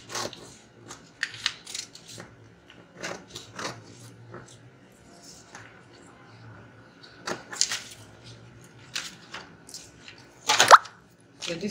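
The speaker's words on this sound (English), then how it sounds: "now you can cut out your dart completely" Scissors snip through fabric while cutting out a dart, in short scattered crisp cuts with pauses between them. The snipping sounds close but fairly quiet, with one louder cut near the end.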